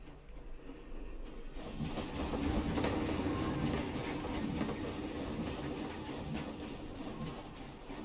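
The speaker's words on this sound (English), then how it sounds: "Goes the steam train." A steam train in the Planet Coaster video game rolls along with a continuous rumbling clatter of wheels on track, steady and moderately loud throughout, with no talking.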